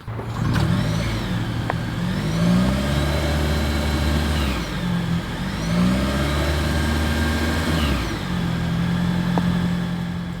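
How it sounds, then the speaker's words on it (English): Exhaust of a 2024 Toyota Corolla Hybrid, a loud close engine drone that rises and falls in pitch through a few revving swells, with no one talking. "Here is that exhaust clip."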